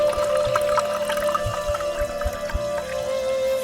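Tassay mineral water poured into a glass, a close gurgling pour with small splashes over a faint steady tonal hum.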